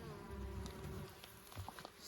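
Honey bees buzz continuously around a beehive during an inspection, a dense, faint droning swarm with occasional louder passes close by.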